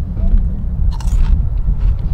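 Close-up crunching bites of Flamin' Hot Cheetos, a couple of sharp crackles over low mouth and handling noise.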